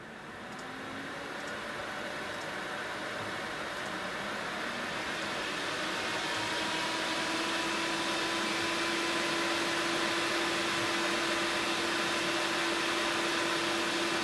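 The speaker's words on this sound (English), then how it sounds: "just so you guys can see what these fans actually sound like when they're on full speed, I'll turn a couple of them up to full speed" Several PC cooling fans in a custom Ryzen 9 build with a liquid water-cooling loop spin up to full speed, a steady broadband whoosh with a constant hum that builds over the first seconds and then holds loud and even.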